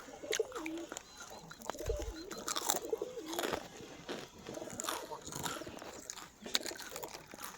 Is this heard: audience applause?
no